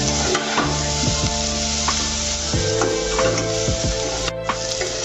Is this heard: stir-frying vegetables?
yes